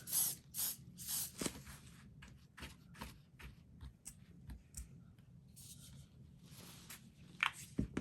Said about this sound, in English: we want to go ahead and put some firm holding hairspray on this beard and kind of pull it toward the center